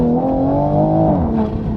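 A 2020 Toyota Supra with a straight-pipe exhaust revs and accelerates on wet pavement, its loud, steady engine drone rising slightly in pitch, close by with no talking.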